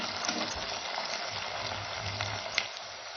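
Chopped onions frying in oil in a pan while being stirred constantly. A steady, moderate sizzle runs throughout, with soft scraping and one small metallic clink.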